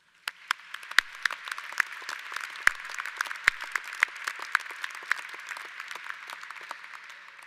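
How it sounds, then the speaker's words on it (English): A commencement crowd applauds faculty and staff at a college graduation, sustained dense clapping from a large audience with sharp individual claps standing out, heard from a distance and fairly faint. "I again ask that we give them a big round of applause"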